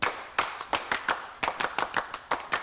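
A 1983 Korean television studio audience claps in a quick rhythmic cheer for a mother, sharp hand claps close and loud in an uneven pattern.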